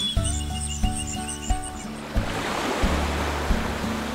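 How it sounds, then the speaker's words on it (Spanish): Ocean surf at the shore: a broad, steady wash of breaking waves swells in after a short bright musical jingle, with a soft rhythmic backing beat continuing underneath. "Océano."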